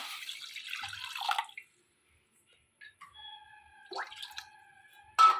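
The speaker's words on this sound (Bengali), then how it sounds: "কড়াটা বসে দিয়েছি গ্যাসটাও আমি চালু করে দিয়েছি কড়ার মধ্যে আমি জল দিয়ে দিলাম" Water splashes into a wok on a lit gas stove for a bottle gourd dish: a short gushing pour, a silent pause, then a few trickling drips and splashes close by.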